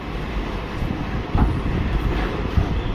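A train pulls out of Kacheguda railway station on a Medak run, its steady rumbling roll filling the space close by, with a few heavier thumps and no voices.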